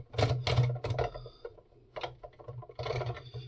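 Small plastic screws being removed from the underside of a projector, a short run of clicky, rattling mechanical ticks and scrapes, close and fairly quiet.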